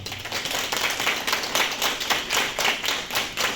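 An audience claps steadily in applause to welcome a guest at a Social Workers' Day event, a dense run of many hands with a pulsing rhythm, fairly close and loud.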